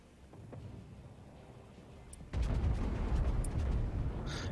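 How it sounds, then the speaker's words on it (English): The main guns of the IJN Kawachi, a Tier 3 battleship in World of Warships, go off in a deep rumbling boom that swells suddenly and lingers over a continuous low background drone. "I'm gonna start shooting at these ships over here."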